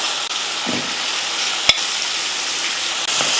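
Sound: stirring mutton with masala in a frying pan

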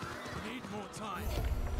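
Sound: horse mount neighing and galloping in video game Diablo 4

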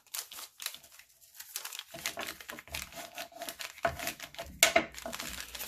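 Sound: folding paper envelope in half

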